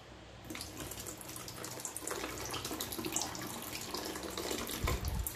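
Fertilized water drains from orchid pots grown in semi-hydro into a bucket, giving a steady, quiet trickle and splash with a few drips, and no voices.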